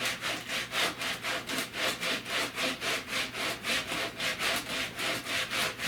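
A 36-grit abrasive scrubs back and forth over a primed fiberglass speaker deck in steady, rhythmic strokes. The rasping is close and continuous and carries on without any talk.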